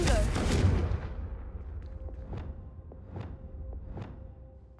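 Confringo fire spell in Hogwarts Legacy bursts with a loud whooshing blast at first, followed by several fainter, evenly spaced sharp impact pops fading over a low background.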